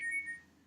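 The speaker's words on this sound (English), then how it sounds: "Ooh, that's my phone." A mobile phone rings with a brief, bright electronic tone, a few quick high beeps that fade within a second, fairly faint and close.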